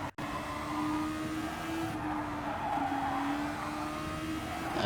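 Race car engine lapping Suzuka in a racing video game, holding a steady loud drone with a rising and falling pitch as the car runs through the S-curves behind another car, with tire noise alongside.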